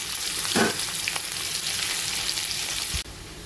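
Thin-sliced onion sizzles in hot oil in a wok with cumin and bay leaf, a steady close hiss with a few stirring scrapes early on, then the sizzle cuts off abruptly near the end.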